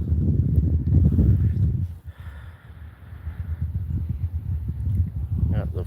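Wind gusts buffet an outdoor microphone near a flag on a windy late afternoon, a low rumbling roar with a brief lull midway, steady and close.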